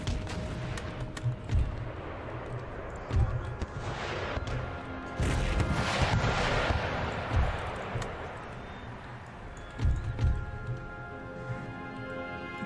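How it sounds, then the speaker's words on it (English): Mortar fire in Empire: Total War, a series of heavy thuds and booms recurring at irregular intervals over a dense battle din with crackling musketry and background music. "Yeah, their mortars are going."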